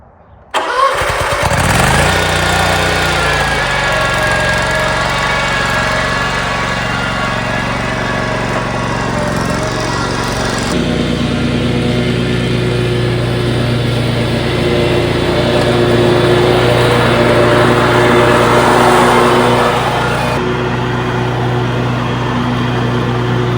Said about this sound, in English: I've got to mow the grass.